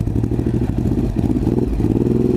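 A Ducati Hypermotard 939 motorcycle engine runs close and loud, a steady pulsing mid-pitched throb with slight clatter and no talk.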